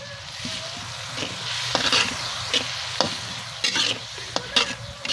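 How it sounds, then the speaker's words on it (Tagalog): Ground meat sizzles in a hot pan with soy sauce while a spatula stirs and scrapes it, with steady frying hiss and sharp intermittent clanks against the pan, close and with no voices. "Kapag malapit nang maluto ang giniling na karne, maglalagay na tayo ng toyo."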